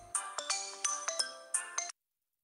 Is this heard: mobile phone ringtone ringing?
yes